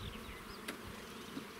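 Honey bees buzz faintly around brood and feed frames lifted from a Buckfast colony hive, a soft steady hum with a brief louder pass near the middle.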